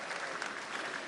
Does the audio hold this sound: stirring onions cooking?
no